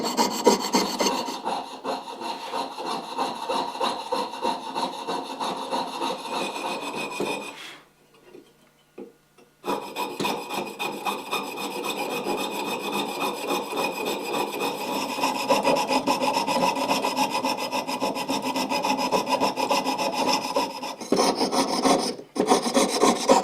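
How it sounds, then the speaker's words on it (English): Steady, rhythmic rasping of a hand saw cutting through wood, close up, with a brief pause partway through before the strokes resume. "sawing out a little shape like this"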